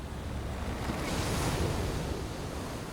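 Steady wash of sea waves breaking on the rocky Galapagos shore, a continuous broadband surf roar that swells slightly midway, with wind noise on the microphone and no voices.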